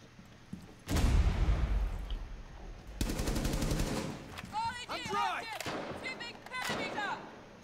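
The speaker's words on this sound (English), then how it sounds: "Gunfire coming from here." Sharp bursts of gunfire in a Rainbow Six Siege team deathmatch on the Oregon map: a loud single shot, then a rapid automatic volley, followed by quieter shots under players' voice chat.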